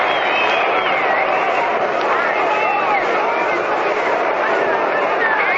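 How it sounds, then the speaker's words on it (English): A stadium crowd at a 1937 World Series baseball game, Yankees at Giants, gives a round of applause, a steady wash of clapping and cheering heard through an old radio broadcast with a faint voice underneath. "there's a round of applause for them"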